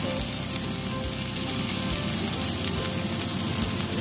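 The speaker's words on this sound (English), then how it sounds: "Cooking the other side now." A burger patty fries in a pan over low heat after being flipped, giving a loud, dense, continuous sizzle close up with faint periodic low thumps underneath and no talking.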